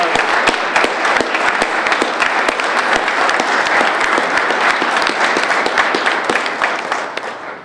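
Sustained applause from an audience at a press conference, a dense, loud wash of many hands clapping that holds steady before tapering slightly at the end.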